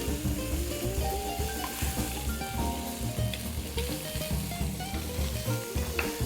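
Chicken frying in hot oil in a pan, a dense continuous sizzle and crackle with small pops, loud and close with no voices.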